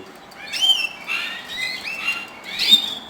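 Birds kept by a breeder chirp indoors with several thin, rising tweets and short calls in quick succession, fairly close and clear over a quiet background, with no talking.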